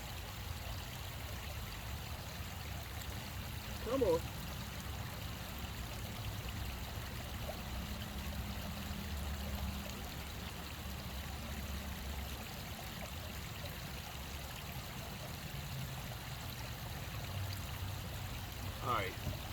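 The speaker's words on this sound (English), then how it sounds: "I just need to put it in the water here for a while." Cold flowing stream water runs steadily around a hand dipped into it outdoors, a continuous broad rushing wash with a couple of brief splashes, while someone speaks briefly.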